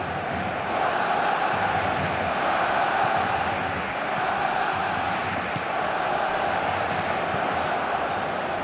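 A stadium crowd in PES 2018 at a Barcelona v Roma Champions League quarter-final cheers in a broad, sustained roar, loud and steady with only slight swells, and no clear voices on top.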